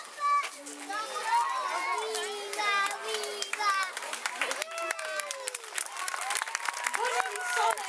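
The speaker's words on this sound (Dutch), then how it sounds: "nog één groot applaus voor alle deelnemers en spelers." Applause from an audience after a Lion King musical, with clapping blending into a lively crowd of children's voices, shouting and chatter close by.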